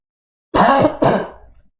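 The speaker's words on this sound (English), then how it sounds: "Hold on, let me cough." Two sharp coughs close together, the first harsher and throaty, the second trailing off into a short rasp, close to the microphone with silence before.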